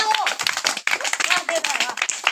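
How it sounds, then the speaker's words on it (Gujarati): Children clap for performers at an Independence Day (15 August) school programme with a rally, a dense, steady patter of many small hands close by, mixed with voices throughout. "કલાકાર આવે તો તાળીનો ગડગડાટ શરૂ કરશો જોરદારથી વધાવો"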